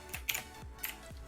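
Computer keyboard keys clicking in a few quick, sparse taps, close but fairly quiet, with no talking over them.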